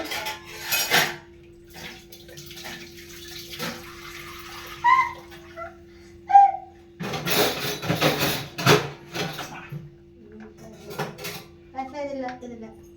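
Dishes, pots and cutlery clatter in a home kitchen under running water, with irregular clinks and scrapes, a steady tap hum and a few faint voices in between.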